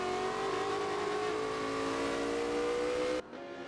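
A Ferrari race car drives at a circuit motorsport heritage festival. The engine holds a loud, steady, high-pitched whine that rises slightly, then cuts off abruptly near the end.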